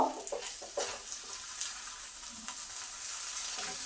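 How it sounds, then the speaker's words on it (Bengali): Fish pieces frying in hot oil for fish chop, a continuous close crackling sizzle with a few faint spoon clicks and stirring noises, no voices. "মাছগুলো আমার ভাজা হয়ে গেছে, এবার নামিয়ে নেব"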